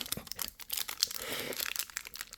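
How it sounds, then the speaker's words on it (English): Crinkly plastic rustling and crumpling close by, a steady busy crackle of someone struggling to open a stiff sealed plastic card pack for a couple of seconds. "I can't open the freaking pack"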